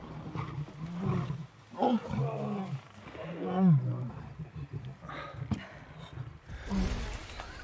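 Lions fighting give rough, growling roars that rise and fall over several seconds, mixed with scuffling and background noise in the wild.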